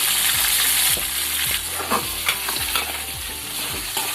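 Brinjals fry in a pan with salt and turmeric, giving a steady loud sizzle with regular scraping stirs of a spatula, close up and without any voices.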